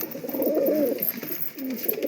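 Pigeons kept in a loft cooing: soft, throaty rolling coos from several birds, one long phrase followed by a shorter one, close and fairly faint with no talking.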